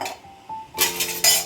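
A metal lid clanks twice onto a pot of rice cooking for peas pulao, two short bright clinks in a quiet kitchen.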